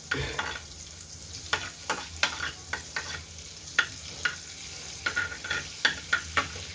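Salted butter sizzling in a pan while being stirred, a continuous soft hiss broken by irregular scraping strokes of a utensil, heard close with no talking.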